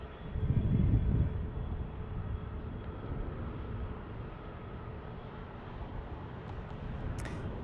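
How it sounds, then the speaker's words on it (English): A United Airbus A321neo at Denver International Airport, a steady broadband jet roar heard from a distance, swelling slightly in the first second and then holding an even, continuous rumble throughout. "There's United going with an A321neo."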